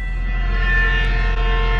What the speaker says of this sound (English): And you can hear a train go by me.